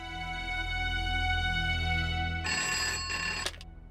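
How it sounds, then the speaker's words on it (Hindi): A landline telephone rings in a steady, continuous electronic trill under a low background drone, changing tone partway through before cutting off abruptly near the end; no one speaks. "लैंडलाइन पर करता हूँ।"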